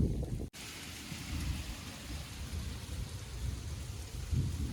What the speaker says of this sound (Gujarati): એ ગાજે હે વરસાદ